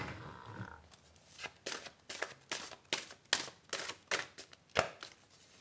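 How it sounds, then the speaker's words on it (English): Heavy tarot deck being shuffled by hand in a string of close, crisp riffling bursts, about eight to ten in a steady uneven rhythm, with no voice over it. "I'm going to give an extra shuffle. These cards are quite heavy."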